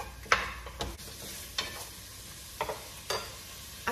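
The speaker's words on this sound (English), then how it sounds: "It's starting to sizzle." Diced vegetables for cabbage and sausage soup sizzle softly in a hot pot, with a few sharp scrapes and clanks of a spoon stirring at irregular moments.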